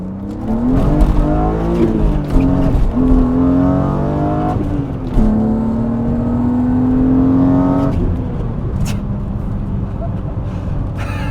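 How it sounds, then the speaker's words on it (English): A car on a wet road with worn rear tyres spins its wheels as the engine revs hard, its pitch climbing and holding in a loud, steady, rising whine. "Wow, that was a lot more wheel spin than I expected."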